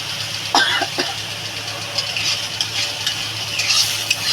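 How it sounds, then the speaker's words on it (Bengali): Spice paste sautéed in oil for a Bengali prawn curry, a steady close sizzle with a few sharp spatula scrapes and stirring knocks, no talking. "যতক্ষণ পর্যন্ত তেল না ছাড়বে ততক্ষণ পর্যন্ত আমি মশলাটা কষাবো"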